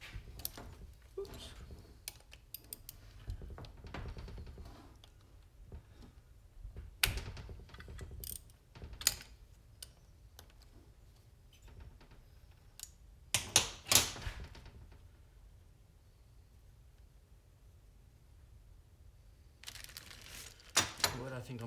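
The cam gear is being removed from a Coolster 125 engine during a teardown, giving quiet, sporadic metallic clicks and ratcheting taps from tools and parts, with brief louder clatters between stretches of near silence.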